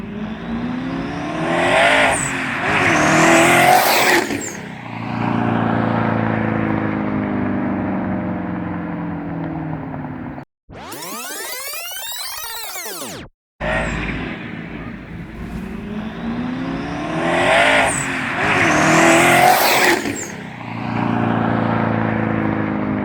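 A twin turbo Ford Coyote engine in a Fox-body car accelerates hard and loudly in repeated pulls, with rising revs, gear changes and a roaring exhaust, broken by a brief sweeping whoosh in the middle.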